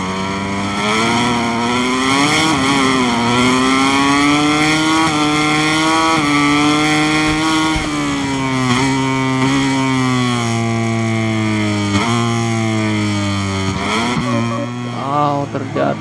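A Honda LCR motorcycle engine screams in MotoGP 2023 racing gameplay, a loud, continuous high-revving wail that rises and drops with gear changes for the whole stretch, with a commentator's voice beneath it.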